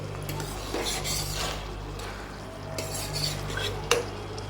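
Bottle gourd and shrimp curry being stirred in a covered pan, a spoon scraping and clinking against the metal in loose, irregular strokes over a steady low kitchen hum, with one sharper knock near the end.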